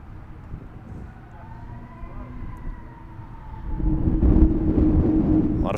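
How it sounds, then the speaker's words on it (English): Fire truck and ambulance sirens wail faintly in the distance on a night at an American Legion senior district baseball game, wavering tones that fade as a louder rumbling ambient noise swells. "A lot of fire and ambulances around."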